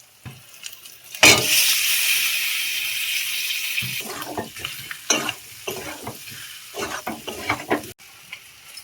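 Boiled potatoes hit hot spiced mustard masala in a pan with a loud burst of sizzling that slowly fades, followed by a run of scraping stirs and spatula knocks.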